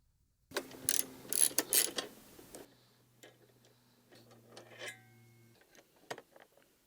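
A hex key turns and lifts out the flanged seat spacer on a Honda CRF300L, giving a quick burst of sharp metallic clicks and ratcheting ticks up close, followed by scattered small taps and rattles.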